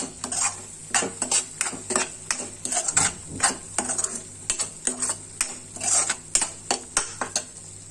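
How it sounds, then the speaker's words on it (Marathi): A spoon stirs vali bean usal with salt in a pan, scraping and knocking against the metal in a quick, uneven rhythm over a soft background sizzle, close and clear with no talking. "मीठ घालून झाल्यानंतर हे सगळं नीट एकत्र करूया"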